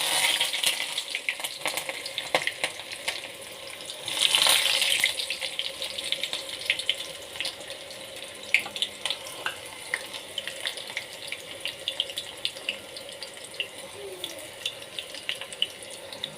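Curry leaves, green chillies and chopped onion go into hot oil for mutton thilli. A dense, crackling hiss swells briefly as they drop in, then settles into a continuous sizzle with scattered pops and no talking.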